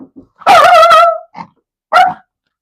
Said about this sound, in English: I don't know whose dog that is.